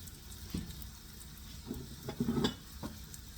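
Veal cutlets frying briefly in a pan, a soft steady sizzle with faint clinks and scrapes of turning, quiet and close with no talk.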